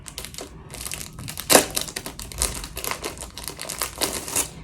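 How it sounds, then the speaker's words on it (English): Plastic packaging crinkles and crackles as a rat tail comb is pulled free, with irregular close rustling bursts and a sharper crunch partway through. "Let me take this out the plastic."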